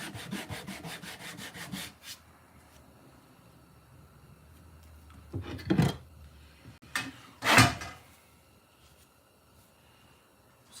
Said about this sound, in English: The sandpaper real quick.